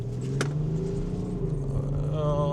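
Engine of a BMW X5 F15 heard from inside the cabin, a steady loud hum with rising harmonic tones near the end, with no talking.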